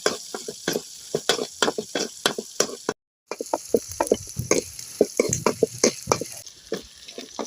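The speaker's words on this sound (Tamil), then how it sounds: "கொஞ்சம் வெங்காயம் போட்டுக்கலாம்." Onions sizzle and crackle in hot oil with cinnamon, dried and green chillies and fennel seeds for a drumstick-leaf and egg stir-fry, a steady fry broken by repeated stirring clinks of a spoon and one brief gap.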